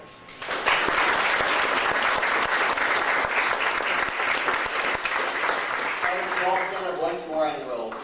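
A congregation applauds at a coming-of-age ceremony in a Unitarian church, with dense, sustained clapping that swells quickly and tapers off as a voice begins speaking near the end.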